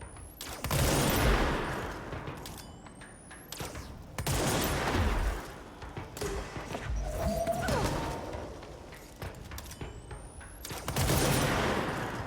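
Gunfire in the video game Control erupts in loud, heavy bursts separated by short pauses, with crashing impacts and debris mixed in and no voices over the shooting.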